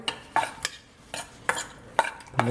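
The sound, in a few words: mixing egg white with a spoon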